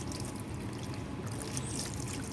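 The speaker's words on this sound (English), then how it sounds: "So first running tap water, and we are putting this below this and scrubbing with the hand to make sure all the excess color can come out." Tap water runs steadily while painted fabric is scrubbed by hand beneath it, giving a continuous close splashing rush with no pauses.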